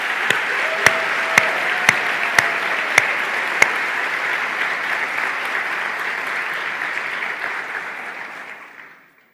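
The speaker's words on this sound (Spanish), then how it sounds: "darse un aplauso ustedes mismos" Dense crowd applause at a John Maxwell leadership event, a few sharp nearby claps punctuating the steady roar, which fades out over the final seconds.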